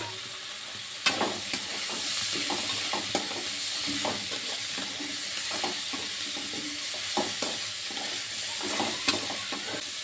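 Katla carp and prawns frying in a pan with turmeric and ginger-garlic paste, a steady loud sizzle broken by irregular scraping stirs and occasional sharp clinks of the utensil.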